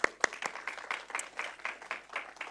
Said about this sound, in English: I think they deserve a great round of applause.